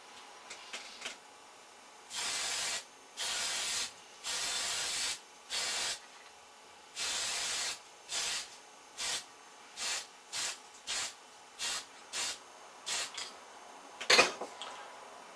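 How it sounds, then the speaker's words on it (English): A spray gun coats a wooden hood with lacquer in a series of close, loud hissing bursts. A few longer sprays come first, then about a dozen short, evenly spaced puffs, with no voices. "So at this point I'm going to put on a coat of lacquer."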